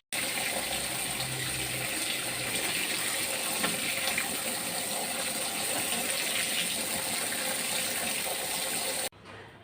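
Water runs hard and steady from a tap or pump for washing a big pile of clothes, a loud continuous gush close by that cuts off abruptly near the end. No voices.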